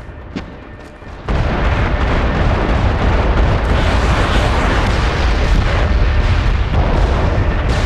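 Artillery fire mission in the online shooter MAG: a sharp pop, then a sudden heavy, sustained roar of continuous explosions and rumbling blasts filling the rest of the stretch, loud and dense with no talk.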